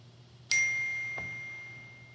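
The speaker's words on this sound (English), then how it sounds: "Hopefully my phone just keeps beeping obnoxiously the whole time I'm trying to record this." A phone gives a single clear electronic ding that rings on and slowly fades in a quiet room, with a faint click partway through its decay.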